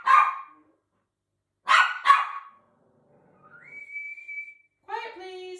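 A puppy barks in sharp bursts, one yap and then a quick double bark, followed by a rising whistle-like whine and a few more yips, close by in an otherwise quiet room.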